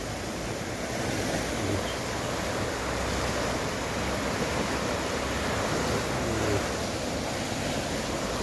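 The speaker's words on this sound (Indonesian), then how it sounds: "Ini Sungai Sa'dan." The Sa'dan River flows past a riverbank where a large old banyan tree has fallen, a continuous broad rush of water with some wind buffeting, steady and fairly loud with no voices.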